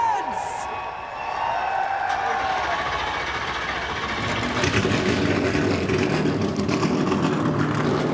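NASCAR race car engines firing up at a 2017 race, crowd and PA noise giving way to a swelling, dense roar of many engines starting together that stays loud and sustained.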